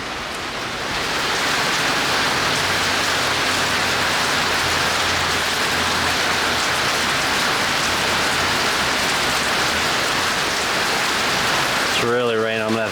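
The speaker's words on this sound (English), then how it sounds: "It's really raining." Heavy rain pours down at a cemetery in Hamilton County, Tennessee, in a loud, steady hiss that runs almost the whole time, with a brief voice breaking in near the end.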